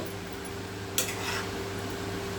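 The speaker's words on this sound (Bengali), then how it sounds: "আমি এবার ঢাকনাটা খুলে দেখে নিই কত কত কী হলো" A cooking pot's lid is lifted with a single soft clank, followed by a brief hiss of escaping steam over a quiet, steady kitchen hum.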